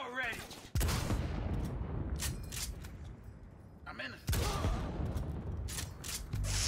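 Heavy sniper rifle shots from the Volhack in the video game Cyberpunk 2077, two loud booming reports a few seconds apart with lingering tails, heard among game sounds and a voice.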